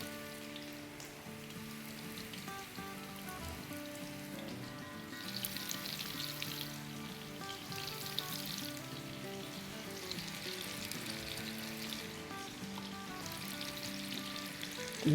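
Lebanese kebab mixture fries in a large pan over a medium-low flame, giving a steady, dense sizzle and crackle that runs unbroken for the whole stretch with no voices.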